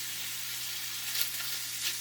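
Shrimp simmer in spicy fra diavolo sauce, giving off a faint, steady sizzle with a few soft pops, heard on their own without talk.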